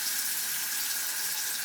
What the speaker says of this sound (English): It needs a splash of water